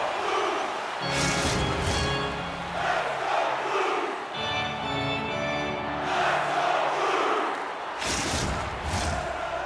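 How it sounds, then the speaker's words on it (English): An NHL 25 hockey arena crowd roars in loud surging waves during a Blues–Ducks game, swelling and dipping several times with a few dull thuds mixed in. "You can feel the energy in this crowd."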